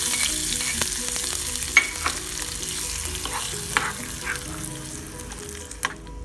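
Dried chilli, a few cashews and curry leaves are tempered in hot oil for a pumpkin curd pachadi, giving a steady soft sizzle with light stirring clicks and occasional sharper pops.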